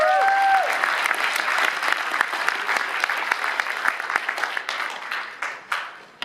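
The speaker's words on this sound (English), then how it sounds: "Give it up for David." A conference audience applauds a speaker in Santa Clara with loud, sustained clapping that begins at full strength and gradually thins out toward the end.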